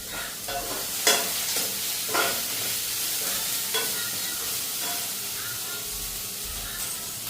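Green chillies sizzle and hiss in a hot pan, with a spatula scraping and stirring in occasional clicks and sweeps over the steady frying sound.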